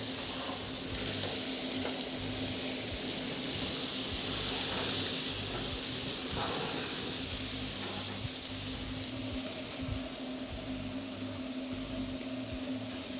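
Pork belly sizzles on a grill as the pieces are flipped, a steady frying hiss with soft scraping and stirring touches, fairly quiet and continuous with no talking.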